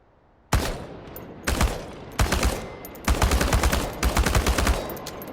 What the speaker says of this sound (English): The biggest challenge is compensating for recoil in automatic firing mode.